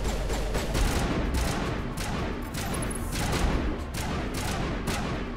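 Dense, continuous gunfire in the shooter game Mass Effect Legendary Edition, rapid overlapping shots and bursts filling the whole stretch at steady loudness with no voices.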